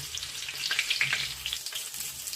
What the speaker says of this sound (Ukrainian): Обсмажуємо рибку до золотистого кольору, щоб вона не була коричнева.